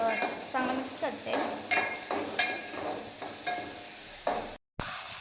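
A spoon stirs chili, tomato, cumin and mustard seeds in a sizzling pan, with repeated scraping strokes and metallic clinks at a steady pace over a frying hiss, close up, broken by a brief cut near the end.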